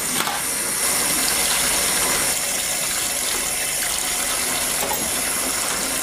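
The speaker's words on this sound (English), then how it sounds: "rinse via the tap before I put it on the dish rack" A sink tap runs in a steady, loud gush as dishes are rinsed under it, with faint clinks of utensils mixed into the continuous water noise and no talking.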